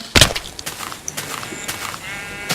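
A sheep bleats a few times amid Minecraft sound effects, short wavering calls over a quiet background with a sharp click near the start.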